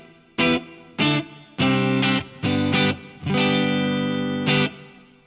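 Guitar chords strummed through a Soldano amp with reverb time set to one second, several short bursts then a long sustained chord, each tail ringing out about a second before fading.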